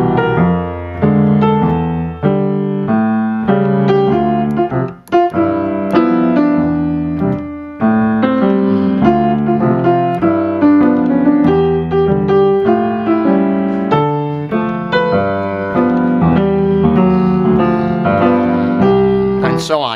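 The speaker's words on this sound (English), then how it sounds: "Supposing I play these in rhythm, it would sound like this." Piano left hand plays wide tenth intervals in a steady rhythmic pattern, with a bass note and upper tone struck together on each beat, loud and close with no talking over it.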